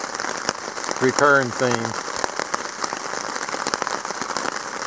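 Rain falls steadily on a campsite in the Boundary Waters during a 2018 trip, the third rainy night in a row, a constant close patter with one brief spoken phrase over it.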